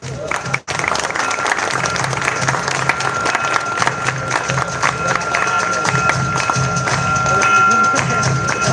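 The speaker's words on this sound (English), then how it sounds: "Let's welcome them with the big round of applause." A crowd at a hostel annual social gathering claps steadily during an award ceremony for carom doubles runners-up, with lively cheering mixed in, loud and sustained, with a brief dropout near the start.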